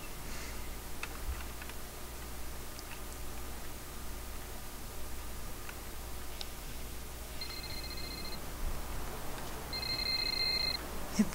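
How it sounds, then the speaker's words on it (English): Telephone ringing off to one side in the game Vampire The Masquerade Bloodlines, heard as two short bursts of a bright electronic ring near the end, fairly faint over a steady low background hum. "Yep, the phone ringing over there."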